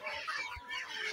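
Native chickens cluck and murmur close by in a short burst, several overlapping calls in a rainy-day hut setting, with no talking.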